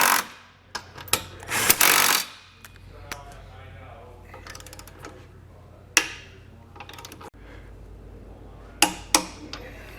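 Hardware on a Curt trailer hitch receiver being tightened with a three-quarter-inch socket under a 2021 Toyota Sienna, heard as bursts of clicking, ratcheting and metallic taps with a loud rattling stretch early on, close and intermittent, with no speech.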